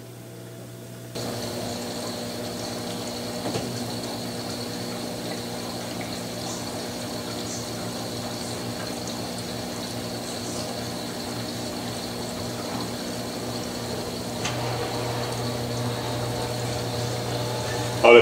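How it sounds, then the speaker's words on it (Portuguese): Electrolux Ultimate Care LSW11 washer-dryer pumping soap already diluted in water onto a household blanket: a steady, close pump hum with running water and faint mechanical ticks, continuous throughout without talk. "agora ela está jogando o sabão, né, já diluído em água, na roupa"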